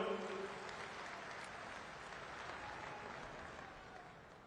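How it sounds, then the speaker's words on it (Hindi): Sustained applause from a large audience of teachers at a convention in Gujarat, a dense steady wash of clapping that holds evenly throughout and fades only slightly at the end. "मित्रों, खूब जोरदार तालियों।"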